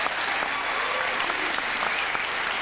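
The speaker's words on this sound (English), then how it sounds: "Put your hands together, everybody." Studio audience applause on a 1999 football talk show, dense steady clapping from a large crowd, loud and sustained with faint voices underneath.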